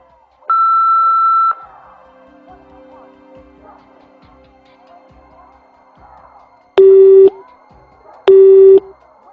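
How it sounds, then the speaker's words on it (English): An answering machine in a Nancy Drew mystery game gives one long steady electronic beep, then after a quiet stretch with faint background two shorter, lower loud tones close together. "Please drop me a line after the beep."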